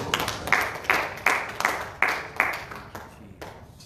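Congregation in a church clapping their hands together in a steady, fairly quick rhythm, a run of sharp claps rising and fading over a few seconds with a roomy, reverberant wash and no voices on top.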